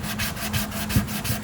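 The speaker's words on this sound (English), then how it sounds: "So what we do is just start sanding that" A sanding sponge rubbed back and forth over a pine guitar body while rounding over a contour, giving close, rhythmic scratchy strokes about every fifth of a second.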